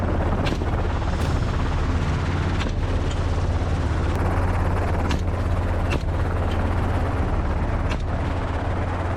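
A helicopter hunting wild boar drones steadily overhead, its deep rotor rumble continuous throughout, with a few sharp gunshot cracks breaking through.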